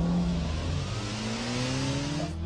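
A front-wheel-drive car's engine revs hard during a handbrake turn, a loud sustained roar with rising pitch throughout, close and with no voices.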